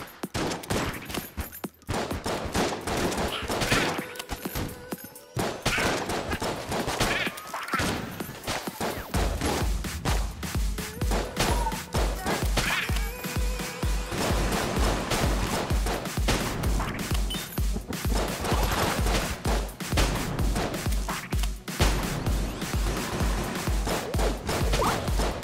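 Dense rapid gunfire from the video game Enter the Gungeon, with rattling bursts, impacts and crashes layered over game music in a fast, relentless barrage.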